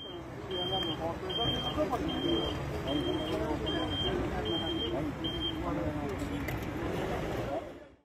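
At an intercity bus terminal in Şanlıurfa, Turkey, idling vehicle engines rumble under a repeating electronic beep that sounds about once a second. Indistinct voices murmur in the background.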